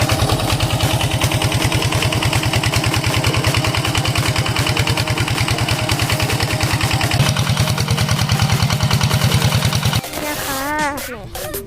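A small Kubota engine pumping water chugs steadily at close range with a rapid, even putter, then the sound shifts and thins near the end.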